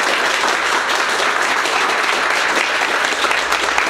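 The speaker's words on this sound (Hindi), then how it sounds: "एक बार जोरदार ताली एक बार टीचर के लिए।" Students at a mobile phone chip-level repair training institute clap loudly for their teacher, a continuous, dense burst of close applause lasting throughout, with no talking over it.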